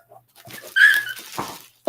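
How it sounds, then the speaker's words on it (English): Dogs whimper indoors in short, close, high-pitched whines separated by brief pauses. "Sorry, dogs."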